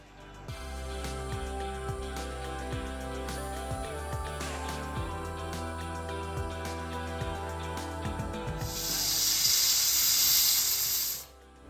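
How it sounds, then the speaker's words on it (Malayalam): A pressure cooker cooking rice, with a steady hum and faint rattle that build into a loud, close burst of hissing steam near the end before cutting off abruptly. "ഞാനിപ്പോൾ കുക്കറിലാണ് റൈസ് കുക്ക് ചെയ്തെടുക്കുന്നത്"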